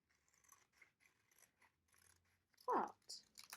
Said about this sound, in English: along the folded edge, I am going to cut the shape